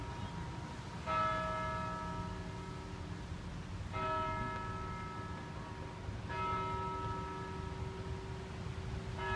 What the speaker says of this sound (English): This is the carillon taking the old bell and making it peal.